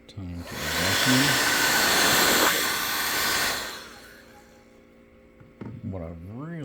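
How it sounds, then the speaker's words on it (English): A vacuum runs loud and steady for about three seconds, clearing stone dust from a fossil bryozoan during needle preparation, then winds down and falls away; brief voices are heard just before and after it. "Time to vacuum."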